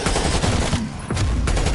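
Rapid bursts of gunfire in the Call of Duty video game, dense loud automatic shots with a brief lull midway before firing resumes, no speech over it.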